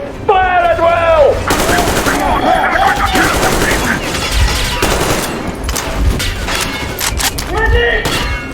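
Rapid machine gun bursts ring out in the video game Metro Exodus, loud, dense gunfire with heavy thumps, while voices shout and yell over the shooting.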